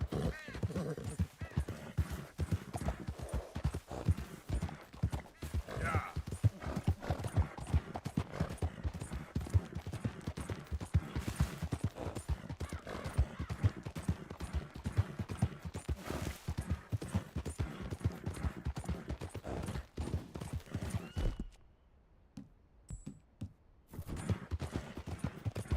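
Steady clip-clop of horse hooves trotting close by in the video game Red Dead Redemption 2, a continuous rhythmic patter that stops abruptly near the end, then resumes briefly.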